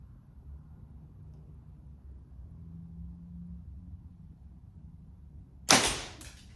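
An arrow fires from a 2023 Elite Omnia compound bow and blows up its pin nock, one sharp loud crack that rings out briefly over a low steady background rumble.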